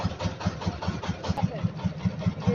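A trawler boat's engine chugging steadily while crossing the Ichamati river toward India, a rhythmic low throbbing putter at a moderate level, continuous and unchanging, with no voices over it.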